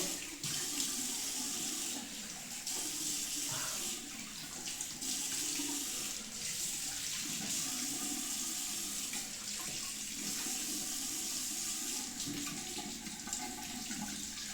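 Water runs steadily from a tap into a sink during a quick rinse after shaving, a continuous close hiss and splash with no talk.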